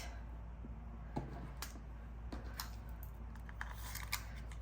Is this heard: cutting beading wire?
yes